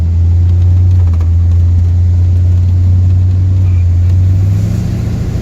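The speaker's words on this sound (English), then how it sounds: "The car accelerates good." An older car accelerates, its engine a loud, steady low drone with a constant hum and rumble that holds throughout and eases slightly at the end, with no voices.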